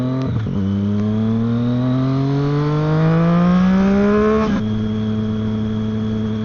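Steady Triumph Street Triple 675 motorcycle engine drone rising in pitch as it accelerates, with a gear shift near the end, under constant broadband wind rush.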